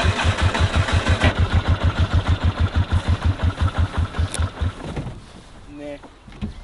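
A car engine running on a single cylinder with its spark plugs removed chugs in a loud, regular, uneven thumping rhythm, then winds down and dies near the end, with a voice briefly heard afterward.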